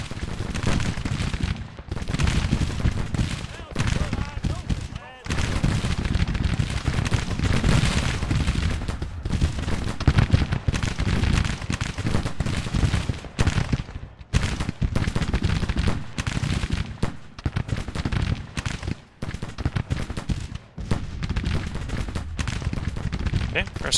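Civil War artillery and musket fire in a Grand Tactician battle at Uniontown, a dense, continuous rumble of booms and crackling volleys with short gaps, loud and close throughout.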